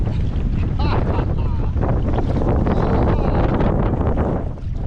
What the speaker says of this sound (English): That's probably 20-some mile-an-hour wind right there, blowing straight in my face